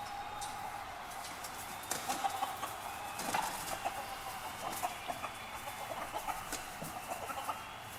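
Two roosters fighting in a cockfight, with repeated clucks and agitated squawks coming in scattered bursts over a quiet background, moderately faint.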